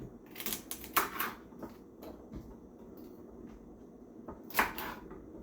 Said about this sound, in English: cut a little more of the celery